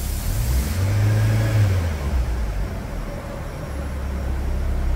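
A Mitsubishi Lancer engine, close by, surges in a rising rev and then drops off as it stalls, leaving a lower steady running drone under broadband noise.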